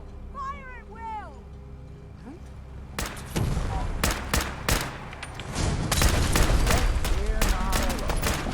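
Gunfire in the video game Fallout 4: Far Harbor, a loud burst of repeated gunshots that starts after a few seconds and keeps going amid game sound effects, with voices shouting before and under it.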